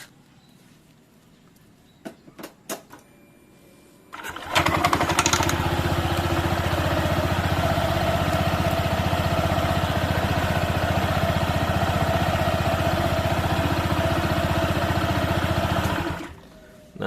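A Honda PCX 160 scooter fitted with NMAX dual clutch linings is started after a few clicks and settles into a steady, smooth idle, humming evenly for about twelve seconds before cutting off.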